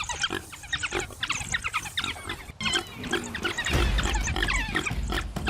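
A wild boar grunts and squeals in harsh, rapid bursts while charging, loud and close, with the noise growing into a heavier rumbling rush toward the end.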